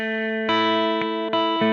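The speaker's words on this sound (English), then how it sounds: "I don't recommend using those presets of guitars that are already amped" A short guitar riff played through a pre-amped, distorted guitar preset, with loud sustained buzzing chords changing a few times in quick succession and no talking.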